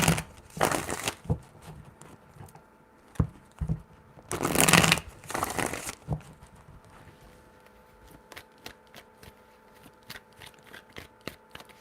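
Tarot cards shuffled up close, with loud riffling bursts early on, then quieter scattered flicks and taps. No one speaks.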